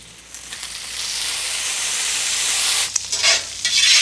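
Shallots and lemon cook in plenty of butter for a pan sauce, giving a steady, close sizzle that swells gradually, then breaks into louder spattering bursts toward the end.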